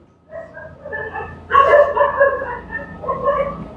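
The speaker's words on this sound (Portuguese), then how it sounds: "Eita, cachorrada doida." Several dogs bark and yip outside during a math lecture, a loud, irregular chorus of overlapping barks with some whimpering, heard from within the room.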